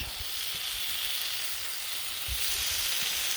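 Roast beef slices cooking on a Blackstone flat-top griddle, a steady moderate sizzle and hiss throughout with a few soft low thumps, no voices.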